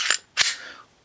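Three sharp, dry clicks from a pistol trigger being dry-fired with the magazine removed, each a crisp isolated snap with short decay, spaced unevenly and close to the microphone.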